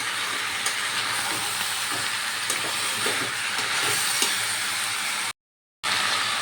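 Chicken stew ingredients fry in a pan with a steady, close sizzle and occasional stirring clinks, continuing evenly before a brief cut to silence and resuming.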